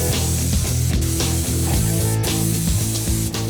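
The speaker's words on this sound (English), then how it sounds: "The great thing about spraying custom cabinetry is that it's going to deliver a superior finish." Custom cabinetry is spray painted in a renovation, with a loud, continuous hiss from the spray equipment and a steady mechanical drone underneath, broken by a few brief pauses.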